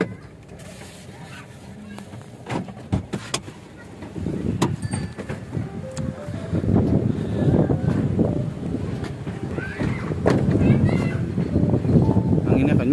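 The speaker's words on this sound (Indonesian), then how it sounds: "Anginnya kencang, coy." Strong wind gusts buffet the microphone at a large dam dried out in the dry season, rising into loud rumbling bursts while people talk nearby.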